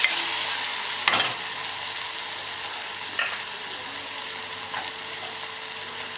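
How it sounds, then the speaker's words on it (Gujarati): Spices, raw cumin and coriander stirred and fried in a pan, a dense continuous sizzle with occasional sharp spatula scrapes and pops, close and fairly loud with no talking. "થોડી કોથમીર અને 1 મિનિટ સુધી બધા મસાલાને આવી રીતે હલાવી લઈએ."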